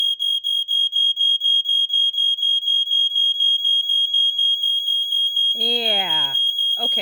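Two Mastercraft smoke alarms, a Dicon 350 rebrand and a Dicon Model 300, sound together as a loud, rapid, steady train of shrill pulsing beeps. A brief voice speaks over them near the end.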